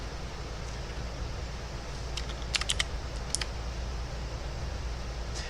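Computer keyboard keys are pressed in a quick cluster of a few clicks, including arrow keys, over a steady fan-like hum.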